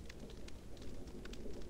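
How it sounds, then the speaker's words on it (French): Steady rain in a Minecraft-style video game, a soft continuous patter with faint drips and light ticks spread evenly through the short stretch, with no talk over it. "Il pleut. J'aime pas la pluie."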